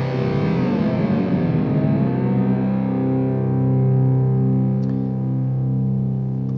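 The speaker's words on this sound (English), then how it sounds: "You can hear one whammy pedal going down and one whammy pedal going up." Clean rhythm guitars played through a Fryette Ultra Lead amp, with one whammy pedal sweeping pitch down and another sweeping up, a slight reverb on top; sliding tones settle into sustained chords, loud and alone.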